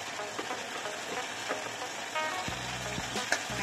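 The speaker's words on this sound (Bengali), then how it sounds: "মাছটাকে ভালো করে কষিয়ে নেব।" Tangra catfish sauté in hot oil in a pan, giving a steady, moderately loud sizzle with occasional soft scraping and stirring sounds.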